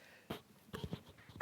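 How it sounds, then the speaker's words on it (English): A person sneezes once, sharp and loud at the very end, after a few soft breathy, sniffling sounds. "I'm gonna sneeze."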